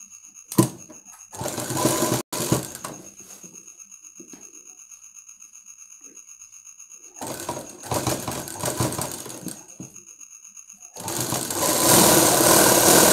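A tailor's sewing machine stitches full blouse sleeves in three loud, fast-rattling bursts separated by quieter pauses with faint handling noises and a steady background hum.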